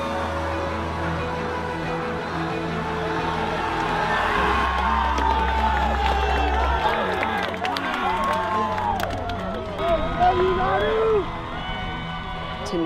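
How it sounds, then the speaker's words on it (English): A large crowd at a football game roars and cheers continuously, swelling and chanting in loud waves, with voices calling out over the din and a deep rumble underneath. "Gentlemen, the crowd rises to their feet. They're chanting, Nanu"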